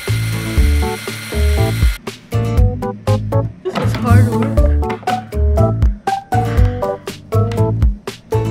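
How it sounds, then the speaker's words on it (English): A power drill bores holes into desk drawers in short repeated bursts, its whir mixed with ratcheting clicks and mechanical clatter, close and fairly loud. "Finally, I start drilling holes into the drawers."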